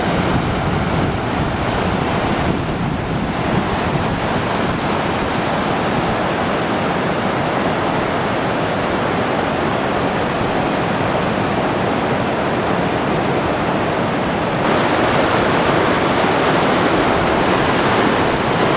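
Piute Creek rushes near Kings Canyon in the Sierra, a loud, continuous roar of fast-flowing water that fills the scene without a break.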